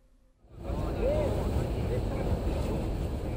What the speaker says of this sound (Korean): 거센 바람 소리를 내며 시뻘건 불기둥이 솟구쳐 오릅니다